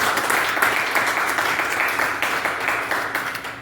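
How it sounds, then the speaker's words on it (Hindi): Audience at a business meeting in India clapping loudly on request, a dense, steady wash of many hands that holds for several seconds without a break. "ताली बजा सकते हैं आप एक जोर"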